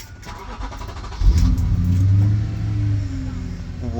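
A car engine at a meet revs up sharply, holding a strong, rising growl for a couple of seconds before settling into a steady idle nearby.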